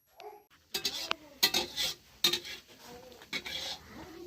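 A cook tosses vegetables in a kadai for fried rice, producing scattered metallic scrapes and clinks of a spoon against the pan over a soft sizzle, fairly close and without speech.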